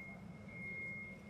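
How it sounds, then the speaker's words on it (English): A steady high electronic beep tone holds through the clip, sitting faintly in the background over a low murmur of room noise. "there's a beeping thing in the background, a little distracting"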